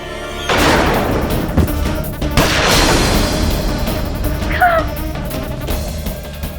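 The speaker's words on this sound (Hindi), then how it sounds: "बस गोली चलाओ, गोली।" Gunfire in a Hindi TV crime drama, with a loud booming shot followed by further heavy blasts and crashing impacts echoing over several seconds, with no talk over them.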